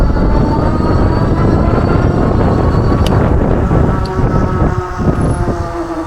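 An electric bike pulling away on throttle alone, heard as a steady loud rush of wind buffeting the microphone with a faint motor whine underneath, easing slightly toward the end.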